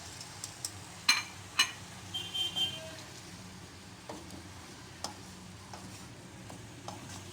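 Macaroni being stirred into a chicken boti mixture in a pan, with quiet sizzling under scattered spoon clinks and scrapes, a few sharper taps near the start.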